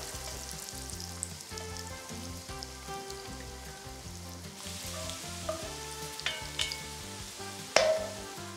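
Bacon sizzles and crackles steadily in a pot, with a few sharper pops and a stir or scrape near the end, the frying sound filling the whole clip close up.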